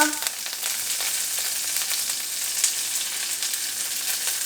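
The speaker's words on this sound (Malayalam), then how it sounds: "കടുക് പൊട്ടുന്നതിൻ്റെ കൂടെ നമുക്ക് കുറച്ച് ഉഴുന്ന് പരിപ്പും കൂടെ ഇട്ട് കൊടുക്കാം" Mustard seeds, urad dal and curry leaves frying in hot oil for a Kerala lunch, a dense, bright, continuous sizzle with crackling pops, loud and close throughout before cutting off abruptly.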